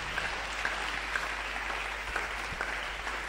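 A church congregation applauds steadily, a dense wash of many hands clapping continuously at moderate loudness during a prayer and fasting service.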